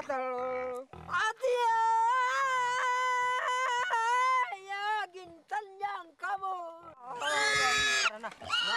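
A live pig squeals in long, strained, wavering cries before a ritual blood offering at an Aeta grave in Zambales. The squeals are loud and close, broken by short gaps, and end in a harsher burst of squealing.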